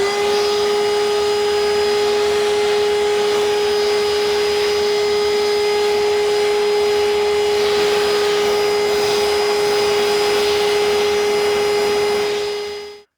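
Evolution R11VAC 18V cordless wet and dry vacuum running continuously near the microphone, a steady high whine with a constant motor tone and airy rush, cutting off at the very end.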